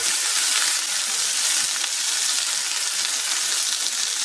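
Wild salmon sears in a hot pan, giving a steady, close, hissing sizzle that holds evenly throughout with no talk.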